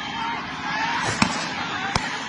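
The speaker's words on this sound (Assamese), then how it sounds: "পুৰা গুলি ফায়াৰিং কৰি আছে" Gunfire as police open fire on villagers in Assam: two sharp cracks, one at mid-clip and another near the end, stand out over steady crowd and street noise.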